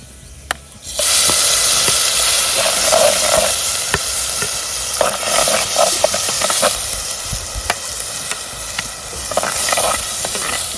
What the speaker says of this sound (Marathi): आता ही जी आपली तिखट चटणी होती आई आता ती घालणार आहे तेलामध्ये